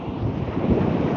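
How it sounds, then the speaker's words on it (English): Waves break on a North Sea beach at Withernsea on the Holderness coast, a loud rushing surge mixed with heavy wind buffeting the microphone, with no voices. "That was just a big wave, that."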